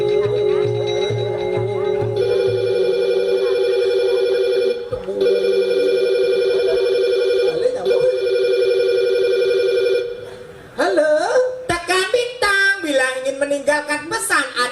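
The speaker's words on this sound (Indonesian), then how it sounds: "Ringtone kurang gaul, ringtone diganti." Telephone ringtone with steady electronic tones repeating for several seconds, interrupted briefly, then giving way to a burst of lively, varied melodic tones near the end, loud and close, heard in a Balinese comedy performance.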